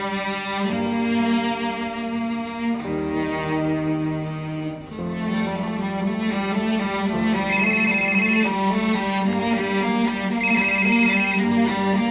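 A loud, continuous electronic melody rings like a phone ringtone, repeating tonal phrases steadily throughout with no voices.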